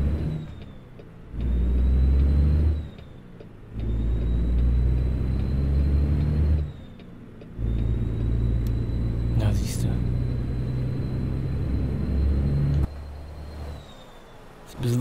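A heavy-haul truck's engine rumbles deep and steady in American Truck Simulator while crossing Montana, briefly dropping out and returning several times, with someone talking over it.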